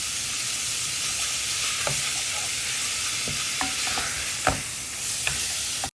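Minced beef for chili con carne fries in a pan, giving a steady loud sizzle and hiss with occasional scrapes and clicks of stirring close by, without any talk.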